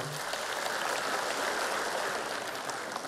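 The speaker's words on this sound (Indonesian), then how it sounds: "Tepuk tangan untuk Pak Mardiono." A steady wash of clapping from a crowd at a political party rally, continuous and even throughout, sounding like sustained applause in a large room.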